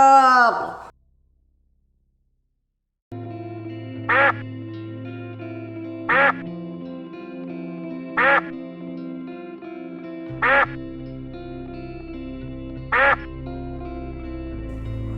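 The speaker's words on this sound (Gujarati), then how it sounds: "ડક એટલે બતક." A duck quacks five times at steady intervals, each call clear and close over a continuous musical backing in a children's bird-names-and-sounds piece.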